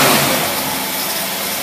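A Carter AFB carburetor feeds a running car engine on a no-load test, giving a steady, loud, broadband mechanical roar with no speech throughout.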